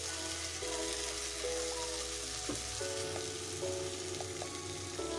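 Steady, dense sizzling of spices and onions frying in oil in a pan while chole aloo chaat is cooked, a continuous close crackle with a faint tonal hum underneath and no talk.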